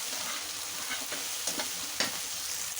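Two small bay leaves fry in hot oil for a potato dal, giving a soft continuous sizzle with a few sharp crackling pops near the end.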